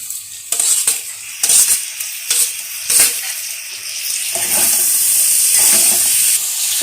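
Finely chopped tomato frying for a liver stew, a steady close sizzle and hiss that builds louder toward the end, broken by sharp scraping stir strokes of a spoon in the pan.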